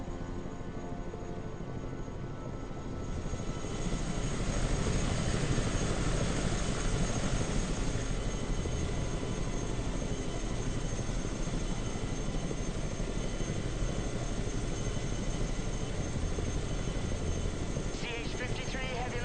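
A CH-53 heavy-lift helicopter in a video game, its engine and rotor roar running steady and loud from start to finish, with a faint rising whine near the end.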